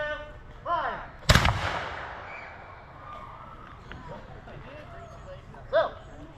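A historical musket fired in a demonstration at the Jamestown Settlement: one loud, sharp close report with a rumbling tail, set between spoken commands and with other voices faintly around.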